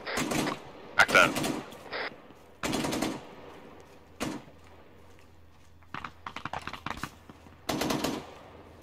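Bursts of vehicle-mounted machine gun fire in the military shooter Arma 3, rattling in short separate volleys spread across the stretch, with radio-style voices talking between the bursts.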